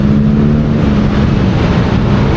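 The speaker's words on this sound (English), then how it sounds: "Look at this traffic." Loud, continuous road traffic in Bangkok heard from the roadside, a dense rumble of engines with a steady idling hum and no clear individual passes.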